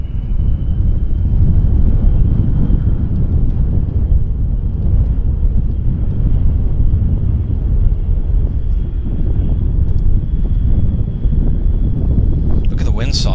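Airplane engines throttle up for takeoff at Vancouver Airport, a loud, steady, low roar that holds throughout, with wind buffeting the microphone.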